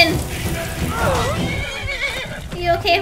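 A horse in the video game Skyrim gives a loud, wavering whinny lasting about a second, close up, over a game soundscape with a faint patter like rain.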